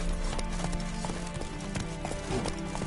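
A horse's hooves clip-clop in a steady, even rhythm in The Witcher 3, close and clear for the whole stretch, with no talk over them.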